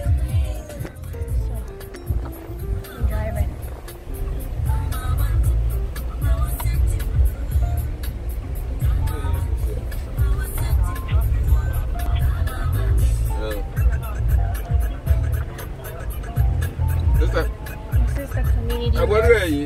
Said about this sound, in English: So we're in the car and it's blazing hot.